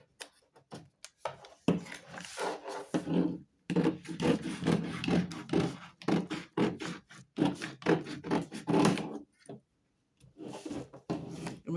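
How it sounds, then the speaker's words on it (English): Scissors cut through fabric for a corset yoke in close, quiet bursts of crisp snipping and rasping strokes, separated by short pauses, with no talking. "So I'm cutting the yoke now."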